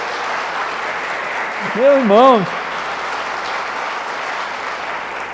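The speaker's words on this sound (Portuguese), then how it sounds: "você tem que aplaudir o Senhor" Congregation applauding in a church during a sermon, a steady wash of clapping heard throughout while someone briefly speaks over it.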